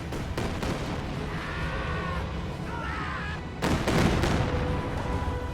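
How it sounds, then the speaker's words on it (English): Incendiary artillery shelling Panzer Fusiliers in a real-time strategy game, a steady rumble of distant blasts and thuds under battlefield noise, with a heavier impact near the middle and faint voices. "Incendiary artillery going down on those Panzer Fusiliers"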